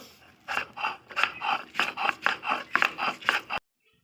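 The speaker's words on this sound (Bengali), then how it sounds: "তো দেখো এটা আমি এবারে বেটে নেব।" Ingredients for a ridge gourd curry are ground into a paste, a rhythmic series of about a dozen scraping, rasping strokes at an even pace, close and fairly loud, ending abruptly in silence.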